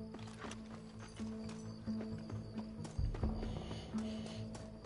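Horse hooves clip-clop steadily in the video game Red Dead Redemption 2, a regular walking rhythm with game ambience and a low droning tone underneath.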